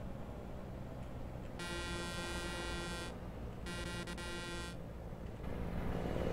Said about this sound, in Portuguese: o som dessa turbina com esse motor Cummins 550